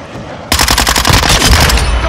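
Rapid automatic gunfire from Call of Duty MW2 Team Deathmatch on the Shoot House map bursts in loud and close after a brief quiet start, sustained rattling shots continuing to the end.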